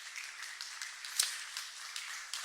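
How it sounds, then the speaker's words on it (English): Audience applause for sponsors at a social media breakfast event, a soft crackle of many hands clapping, faint and distant, steady throughout with one brief sharper clap. "Please give them a warm round of applause for their support."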